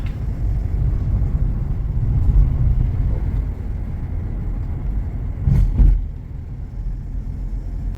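A taxi car driving through Kyiv, heard from inside the cabin as a steady, loud low road rumble and engine drone, with a brief swell of passing noise near the end.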